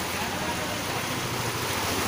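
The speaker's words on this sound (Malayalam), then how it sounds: "ഈ വെള്ളം നിറഞ്ഞു വരുന്നത് റോഡാണ്" Floodwater rushing across a submerged road at Vadakkanchery, Kumaranellur and Inchalodi, a steady, loud broadband wash of moving water with wind buffeting the microphone, continuous throughout with no talk.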